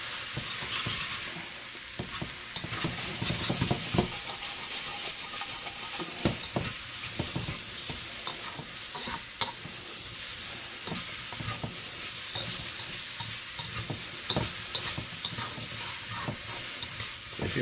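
Bok choy stir-fries in a pan with loud, continuous sizzling and hissing. Frequent scraping stirs and tosses punctuate it throughout, and no one speaks.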